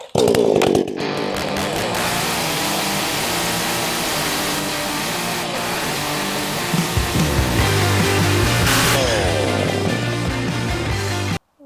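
A Vitals BKZ 5634j petrol chainsaw engine roars loudly and steadily from start to finish, its pitch rising and falling as the throttle revs, with a brief sputter at the beginning.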